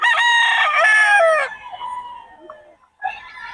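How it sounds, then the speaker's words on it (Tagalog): Fighting cocks, banded gamefowl, crow loudly and close by in one long harmonic call, followed by a fainter second crow and the start of a third. "puro solid ang mga manok ni Boss Albert, mga banded"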